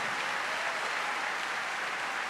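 A church congregation applauds married couples, a dense, steady wash of many hands clapping at once that holds evenly from start to finish with no pauses.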